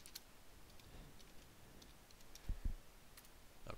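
Two quick, faint clicks of a computer mouse double-clicking, close and soft against a quiet room background.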